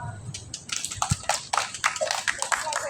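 An audience claps for a dentist at a community health education session, fairly scattered and moderately loud claps coming from a small crowd, with some murmuring mixed in.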